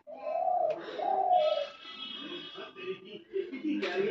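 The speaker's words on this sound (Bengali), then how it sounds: "ঘুঘুটা বেডরুমে ডাকছে" A dove calls from just outside a bedroom window with two drawn-out, hollow coos near the start, followed by softer, broken sounds and a nearby voice.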